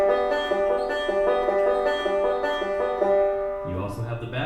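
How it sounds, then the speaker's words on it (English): Banjo forward roll picked thumb, index, middle in a steady repeating bluegrass pattern, bright plucked notes ringing clearly up close before a brief shift at the end. "The first one's called a forward roll,"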